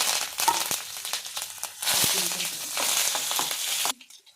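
Crushed garlic, green chillies, curry leaves and tempering spices fry in hot oil for a village-style tomato chutney, giving a close, continuous crackling sizzle broken by stirring scrapes before it cuts off.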